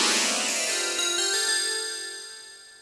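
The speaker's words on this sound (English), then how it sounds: "I have like a little bell sound." A little bell sound in a type beat rings as a bright, sustained chord with shimmering overtones, fading gradually over about three seconds with nothing else heard.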